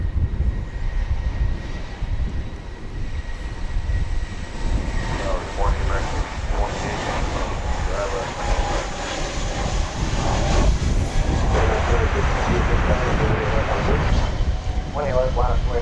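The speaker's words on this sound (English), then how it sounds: "Delta jet on final approach. This is an Airbus A319 coming in from Minneapolis, St. Paul" A Delta Airbus A319 inbound from Minneapolis–St. Paul on final approach to DFW International Airport makes a steady, loud jet-engine roar that swells slightly toward the end, heard with constant outdoor rumble underneath.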